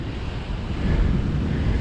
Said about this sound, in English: This is, look at that ocean. Holy cow, that puppy's rough.